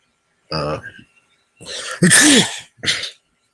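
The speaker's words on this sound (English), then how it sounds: "A snorting sneeze." A close, loud snorting sneeze, a sharp nasal burst followed by a short snort, with brief vocal sounds just before it.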